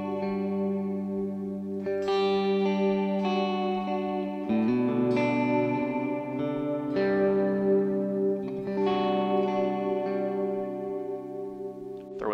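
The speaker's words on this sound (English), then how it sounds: "So this chorus and this beautiful mix of reverb together sound" An electric guitar runs through a Line 6 HX Stomp with chorus and reverb, playing sustained, shimmering chords that ring and overlap in a lush, spacious wash, with no voices.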